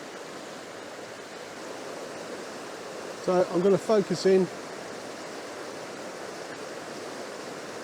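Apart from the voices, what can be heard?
water flowing in the River Dart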